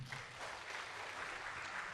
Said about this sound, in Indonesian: Yang setuju tepuk tangan dong.